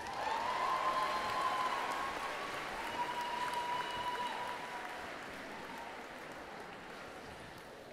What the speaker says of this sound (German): Ich bitte um einen riesen Applaus für Sokrates Cosplays als Gaston aus Die Schöne und das Biest